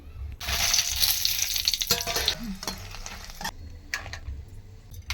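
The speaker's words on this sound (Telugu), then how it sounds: "మిరపకాయలు వాటిని వేయించుకోవడానికి ఆయిల్ వేసుకుందాం" Red chillies frying in hot oil, a loud bright sizzle that crackles intensely at first and then settles, punctuated by sharp clinks and scrapes of stirring.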